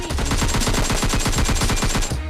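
Loud, rapid automatic gunfire in PUBG Lite rattles in a continuous burst of evenly spaced shots, close and harsh, cutting off at the end.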